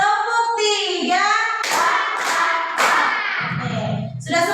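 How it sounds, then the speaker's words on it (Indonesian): A classroom of children claps hands together in a counted rhythm, with loud, sharp bursts of claps amid children's voices. "Tepuk 1, tepuk 2, tepuk 3."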